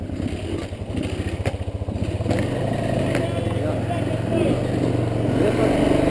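A motocross motorcycle engine idles and runs steadily close by, a rough continuous rumble with a stuttering start, while people talk nearby.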